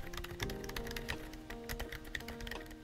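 Typing on a GAS67 mechanical keyboard fitted with silent switches: a steady run of soft, muted keystrokes at a moderate pace, close and fairly quiet, with no voices.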